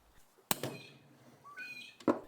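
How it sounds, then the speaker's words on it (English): A hammer gives a hex key set in a drill chuck a few sharp metallic strikes, one firm clang near the middle and another at the end, with faint rustling between them. "Take your hammer and give the hex key a firm hit."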